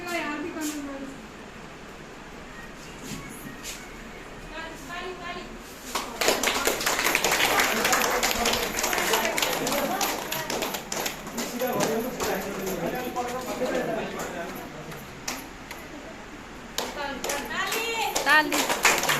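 A group clapping at a training closing ceremony, starting sparse under talk, then turning into a loud sustained round of applause from about six seconds on, with voices and children's chatter throughout.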